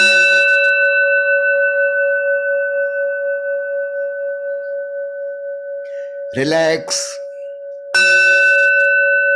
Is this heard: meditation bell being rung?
yes